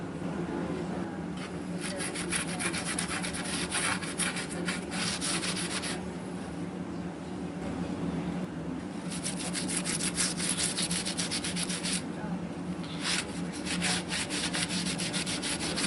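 A cloth rubs driftwood-colour stain onto a sanded pine tabletop board, a steady close scrubbing swish in long back-and-forth bursts with brief lighter pauses, continuous throughout with no talk.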